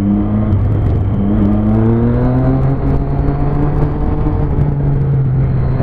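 A car driving along a road, its engine holding a steady loud drone whose pitch rises gradually as it accelerates and runs continuously through the clip with no voices.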